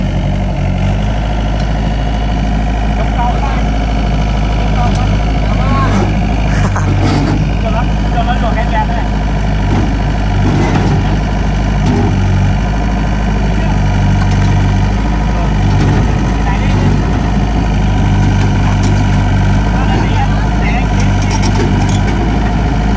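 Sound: excavator engine idling while being unloaded

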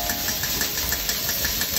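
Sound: garlic sizzling in a hot pan

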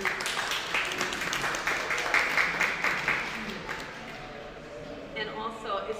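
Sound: audience applause at senior art show

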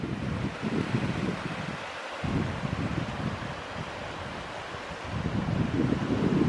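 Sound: Eagle Creek water running

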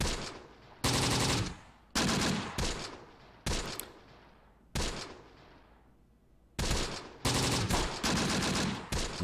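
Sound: soldiers firing guns, from the video game Close Combat: The Bloody First

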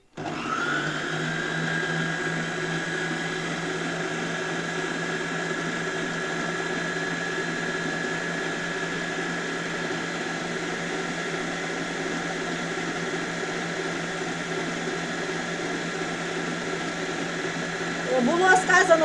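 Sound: electric dough mixer kneading dough

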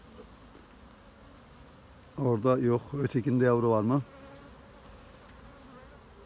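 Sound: honeybees buzzing at beehive

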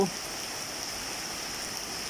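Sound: heavy rain falling

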